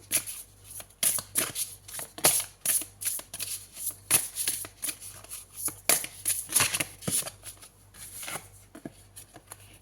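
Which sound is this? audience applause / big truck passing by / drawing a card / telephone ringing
drawing a card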